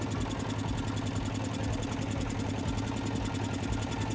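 A motor boat engine chugs on the Ganga river, a steady, close, even drone with a fast rhythmic throb that never lets up, and no voices over it.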